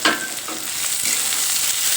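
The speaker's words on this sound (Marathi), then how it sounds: "कांदा आपला छान फ्राय झालेला आहे" Chopped onion fries in a pan with a steady, bright sizzle and a few stirring scrapes, close up and continuous with no talking.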